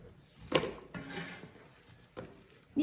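Diced Chinese yam tipped from a board into a basin gives a sharp clattering spill of small pieces, then a softer scattering and a few light knocks, close by with no voices.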